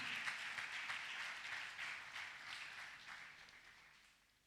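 A church congregation at a communion service applauds, many hands clapping in a steady, fairly distant wash that gradually tapers and fades toward the end.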